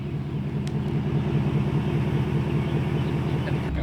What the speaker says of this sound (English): we need to go drive this thing and just see for ourselves how gnarly it sounds